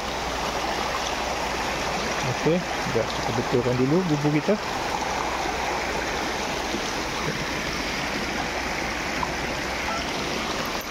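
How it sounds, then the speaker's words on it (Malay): Steady rushing water of a fast-flowing river throughout, a broad continuous wash, with someone speaking briefly over it near the start. "Air agak deras sebab saya rasa dekat atas Gunung Jerai mungkin tengah hujan lebat"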